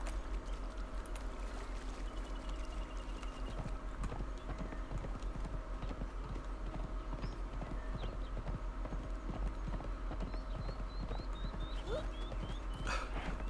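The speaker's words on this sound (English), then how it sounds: "Let me just get on my horse and" Rapid rhythmic hoofbeats of a galloping horse in the video game Conan Exiles, steady and continuous over a low hum, with occasional faint chirps and a brief whinny-like sound.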